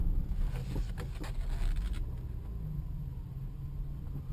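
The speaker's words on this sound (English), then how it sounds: "I'm going to do a U-turn here to test the turning radius." A 1996 Nissan Maxima full-size sedan making a U-turn, heard as a low engine and road rumble from inside the car, steady and fairly quiet, with no talking.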